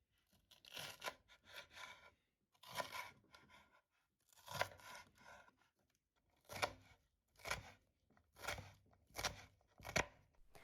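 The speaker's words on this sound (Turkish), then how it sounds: "yeşil biber keselim" Knife slicing green pepper on a cutting board, a series of crisp, close cuts in irregular bursts with short pauses between, no talking.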